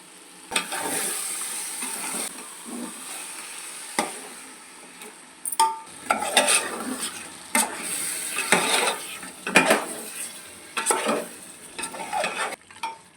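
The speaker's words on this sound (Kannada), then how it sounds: "ಇದೊಂದು ಐದು ನಿಮಿಷ ಚೆನ್ನಾಗಿ ಫ್ರೈ ಆಗಲಿ" Ground tomato and greens masala frying in a pan for mutton pulao, a soft sizzle broken by repeated scraping stirs of a spoon against the pot.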